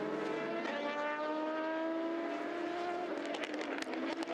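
A Racing Team Netherlands race car exits the pits at Le Mans after a driver change, its engine whining as it climbs steadily through the gears, loud and close, with faint crowd noise.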